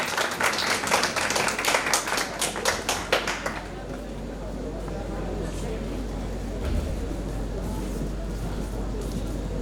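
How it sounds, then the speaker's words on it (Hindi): An audience at a physiotherapy college farewell party claps in a burst of applause for the first few seconds, then the clapping stops, leaving a low room hum. "तालियों की गड़गड़ाहट से माहौल एकदम"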